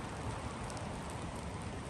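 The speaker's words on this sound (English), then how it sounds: "It sure is a rainy day here today" Steady rain falling outdoors on a rainy day at a house construction site, a continuous even patter with no breaks and no voices.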